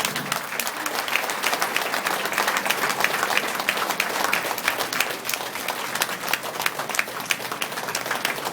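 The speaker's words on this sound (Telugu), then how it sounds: "అంటే క్లాప్స్ కొట్టాలి" An audience claps at a birthday celebration held by a spiritual society, sustained dense applause from many hands, steady and fairly loud throughout.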